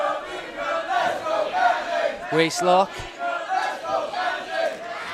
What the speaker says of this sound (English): What a split crowd. It's great to hear.